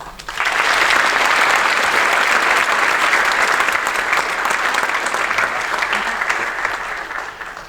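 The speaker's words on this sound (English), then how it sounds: "Please welcome and clap as loud as you can for Abhinav Keswani" Loud, sustained applause from a tech summit audience welcoming a presenter to the stage, a dense, steady wash of clapping that starts abruptly and holds strong for several seconds with no voices over it.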